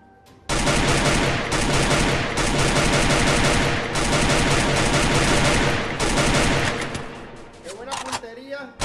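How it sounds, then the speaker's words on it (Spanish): Rapid video game gunfire bursts loudly and almost continuously through most of the clip, with dense overlapping shots and automatic fire, while players talk excitedly over it. "¡Me dispara!"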